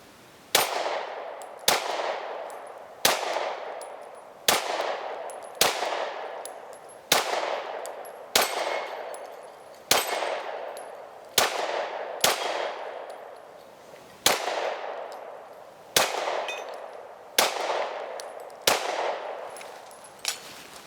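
Taurus G3 pistol fired steadily through a magazine at an outdoor range, sharp loud shots spaced roughly a second apart, about fifteen reports with ringing decay and no talk.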